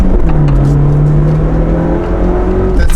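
A Nissan 180SX with a stock SR20 engine pulls hard in first gear, its note rising steadily and loud and close for about three seconds before easing off.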